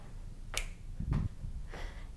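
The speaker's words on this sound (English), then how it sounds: "Maybe you wanna snap." Three sharp finger snaps spaced about half a second apart during a simple step-and-clap dance routine, each crisp and fairly close over a low background rumble.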